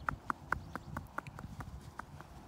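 Knuckles tap on a horse's skull, a quiet series of about ten sharp, evenly spaced knocks over a low hum.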